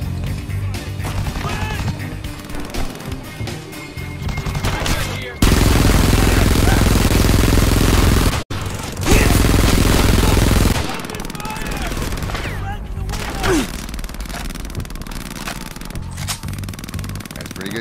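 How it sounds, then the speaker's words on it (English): Video game gunfire in the war shooter Frontlines: Fuel of War, dense bursts of automatic fire and blasts with two long loud sustained stretches, mixed with other game sounds while a voice talks. "Shots."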